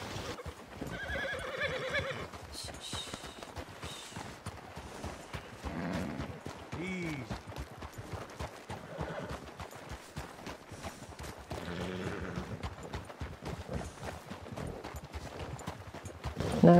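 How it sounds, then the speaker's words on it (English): Horses in the video game Red Dead Redemption 2 whinny and snort repeatedly along a trail ride, over a steady clip-clop of hooves. Voices talk intermittently throughout. "Abby's horse and Bruce were pretty much chattering like the whole way down this path"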